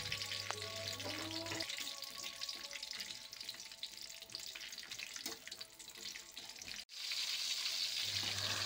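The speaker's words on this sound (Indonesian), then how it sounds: "Panaskan minyak secukupnya, lalu kemudian ini kita goreng dulu cabai dan bawang putihnya." Chili and garlic fry in hot oil for Indonesian fish somay seasoning, a dense steady sizzle with stirring clatter, a brief cut near the end before the crackle resumes; no voices.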